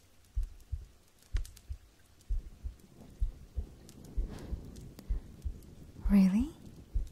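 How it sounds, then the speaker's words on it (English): A slow, soft heartbeat thumps in even double beats, close and intimate, with faint rustling and a brief breathy sound near the end. "And I bet you missed listening to my heartbeat as well."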